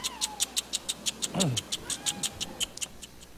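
A cat meows once in a drawn-out, wavering cry, while a rapid series of regular ticking clicks runs throughout.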